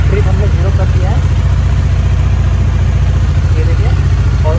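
Motorbike engine idling before a long ride, a steady close low throb throughout, with someone talking over it.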